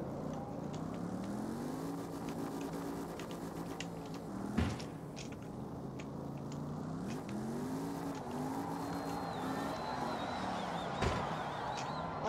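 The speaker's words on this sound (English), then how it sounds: "next I'll be drag racing these guys using my fast timer" Steady engine drone with rising and falling revs, like cars racing side by side, with a couple of brief sharp bangs, from drag racing in the video game CarX.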